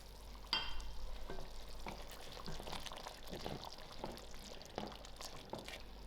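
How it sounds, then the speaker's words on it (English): Fried onions are stirred into a simmering three-dhal lentil curry, giving a faint sizzle with soft scraping and wet stirring sounds after an initial plop into the pot. "To my curry, I'm going to add in my fried onions."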